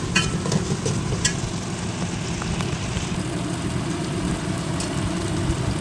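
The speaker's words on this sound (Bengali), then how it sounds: "শিলনোড়ায় বেটে রাখা যে মশলা আদা, রসুন আর কাঁচা লঙ্কা, এটা দিয়ে দেওয়ার পরে ভালো করে কষিয়ে দিতে হবে" A paste of ground ginger, garlic and green chili sautés in a pan for a chicken curry, giving a steady, fairly loud sizzle with occasional stirring scrapes over a low background rumble.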